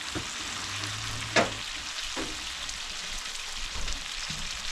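Venison steaks frying in a pan, browning on the second side, with a steady broadband sizzle throughout, a brief utensil clatter near the middle and no talking.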